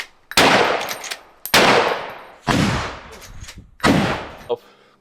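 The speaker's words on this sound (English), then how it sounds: "Let me try shooting for the hip." Four heavy booming shots from a semi-auto 12-gauge shotgun fired from the hip, spaced roughly a second apart, each loud and sharp with a ringing decay, close by.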